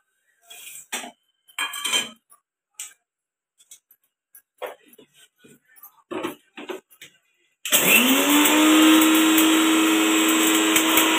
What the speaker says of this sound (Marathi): पहिला आपल्याला धने आणि ते लवंग, मिरी हे भाजलेले हे बारीक करून घ्यायचे.